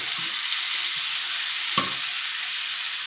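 Tomatoes and salt fry in a pan over a medium flame with a constant hissing sizzle, broken once by a single louder scrape of the stirring spoon.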